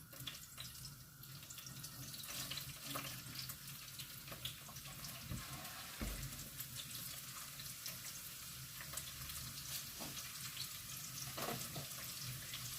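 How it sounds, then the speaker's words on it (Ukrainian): Onion frying in hot vegetable oil in a pan until golden for a lean cabbage stew: a steady, even sizzle and crackle running through the whole stretch, fairly close and moderately loud, with no talking. "і обсмажуємо прямо-таки до золотистого кольору"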